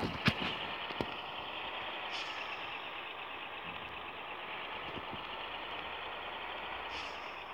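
Steady truck engine drone from a truck driving video game runs throughout at an even level, with a few sharp clicks near the start and faint beeping tones scattered through it.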